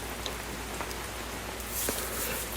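Rain falls steadily at night, a soft, faint wash of drops with occasional slightly louder patters and no voices.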